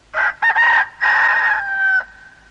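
A rooster crows once, loud and close, a long drawn-out cock-a-doodle-doo with a sustained final note.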